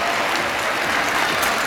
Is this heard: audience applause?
yes